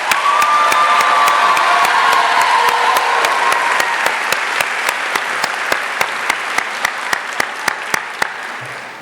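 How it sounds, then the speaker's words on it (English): A high school graduation audience in Dunkirk, New York bursts into loud, sustained applause with cheering and a whistle, the clapping thinning to a few rhythmic, sharp claps near the end. "So let's all give Mrs. Moreland another round of applause."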